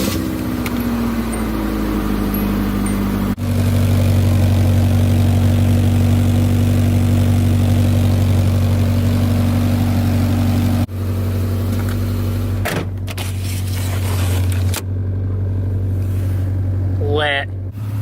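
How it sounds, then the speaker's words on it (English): Japanese-market car fitted with a 4-inch exhaust, its engine cranking and catching, then a loud, steady, deep idle drone with brief interruptions toward the end; no one talks over it. "It's got a 4-inch exhaust on it, so it sounds pretty freaking mean."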